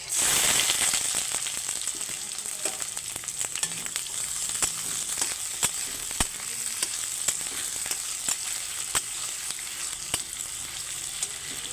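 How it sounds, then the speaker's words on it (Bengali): Sliced onions and green chillies fry in hot oil with nigella seeds in a pan, giving a loud, dense sizzle that starts strongest and holds steady, dotted with occasional crackles and spatula clicks. "পেঁয়াজগুলো একটু ভাজা ভাজা হয়ে গেছে"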